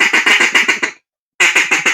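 A duck call blown loudly in two rapid bursts of raspy quacks, about six notes each, separated by a short pause.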